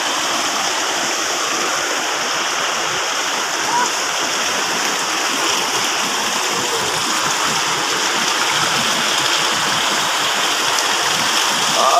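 A strong current of cold spring water at Budlot spring in Taginis rushes loudly and continuously, a dense, close roar of flowing water.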